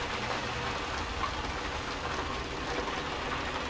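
Steady, loud rain hiss in Euro Truck Simulator 2, a continuous broadband wash with a low engine rumble underneath, constant throughout with no talking.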